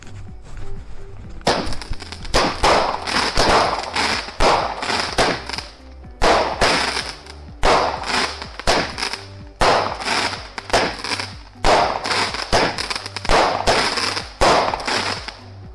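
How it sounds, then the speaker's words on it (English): Backyard fireworks crackle and pop in rapid bursts, loud sharp bangs clustered in volleys with brief pauses, continuing for over fifteen seconds. "That is how you safely shoot a firework in your backyard."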